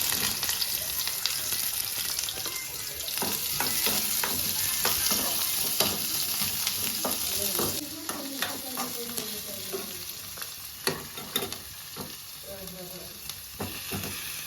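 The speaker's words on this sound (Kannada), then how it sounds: "ಎಲ್ಲನೂ ಫ್ರೈ ಮಾಡೋಕ್ಕೆ ಹಾಕೋಬೇಕು." Cashews, onion and tomato sizzle and fry in a pan, with a continuous hiss broken by frequent scraping stir strokes that grow more distinct and sparse toward the end.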